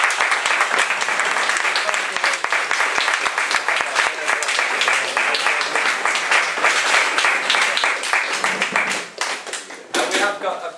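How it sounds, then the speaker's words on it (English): Sustained round of applause from an audience at a Bay of Pigs 50th anniversary meeting, dense crisp clapping lasting about nine seconds before tapering off, with a voice starting up at the end. "Round of applause"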